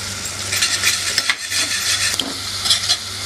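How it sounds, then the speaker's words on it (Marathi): A ground paste with turmeric sautés in hot oil for dahi kadhi, giving a loud, constant sizzle broken by scraping stirs of a spoon against the pan. "1 ते 2 मिनिटे हे वाटण आपण टाकलेलं आहे ते परतून घ्यायचं आहे तेलामध्ये।"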